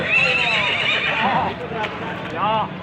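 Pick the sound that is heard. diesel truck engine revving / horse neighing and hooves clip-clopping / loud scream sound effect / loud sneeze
horse neighing and hooves clip-clopping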